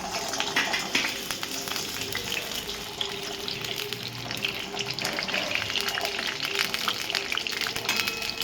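Potatoes frying in hot oil in a wok, a steady, dense crackling sizzle that runs unbroken throughout at moderate level, with faint background noise beneath.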